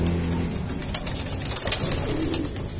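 A long-distance racing pigeon coos in a short run of soft, rhythmic throaty calls close by, with no talk.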